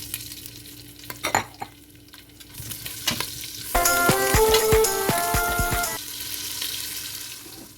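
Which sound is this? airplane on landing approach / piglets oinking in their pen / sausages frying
sausages frying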